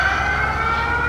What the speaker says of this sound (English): that was an alarm.